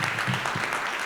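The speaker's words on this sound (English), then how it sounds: "So give yourselves a round of applause." Applause from a graduation commencement audience at a college of music, a brief, moderately quiet patter of many hands clapping in a large hall.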